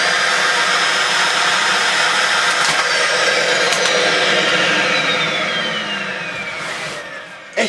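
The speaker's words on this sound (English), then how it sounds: "So you have a Dyson DC50 that when you turn it on it sounds like this." A clogged Dyson DC50 upright vacuum cleaner runs steadily with a loud, strained broadband whine and a faint falling tone, easing slightly near the end, with no talking.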